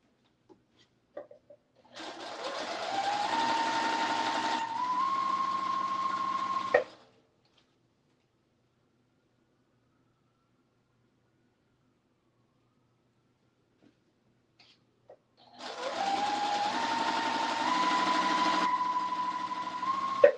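A sewing machine stitching a quilt runs in two long bursts of about five seconds each, a steady whirring hum that rises at the start and then holds level, separated by a long stretch of near silence.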